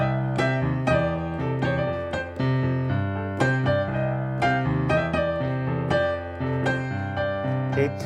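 Solo piano plays major blues scale lines harmonized with a G held on top, bright repeated chords over a steady low bass, moderately loud with no talking.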